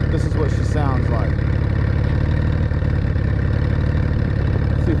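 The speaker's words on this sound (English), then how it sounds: "The bike still runs well, and this is what she sounds like." A 2014 Honda Valkyrie motorcycle with a modified exhaust idling, a steady, deep, loud rumble close by, with brief voices over it.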